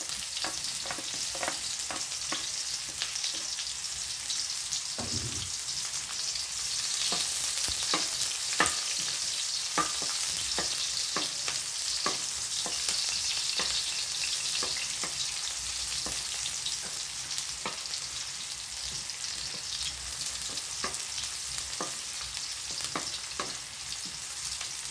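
Onions sauté in a pan for a sardine, papaya and moringa leaf dish, a steady bright frying hiss with frequent small crackles and occasional stirring clicks, close and continuous without speech.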